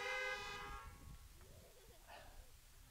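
Car horns honk at a drive-in Easter church service outside, a burst of overlapping toots at the start that fades into scattered softer honks and crowd noise.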